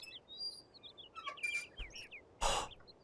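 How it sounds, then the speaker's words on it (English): Birds in the Syberia adventure game chirp and tweet in quick, bright bursts over a faint background hiss, with one louder breathy burst partway through. "Oh yeah, the birds. The birds are so loud in this."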